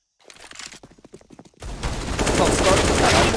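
A sharp run of gunshots in CS:GO. A short patter of quick cracks comes first, then loud dense sustained firing that fills the rest of the moment up close.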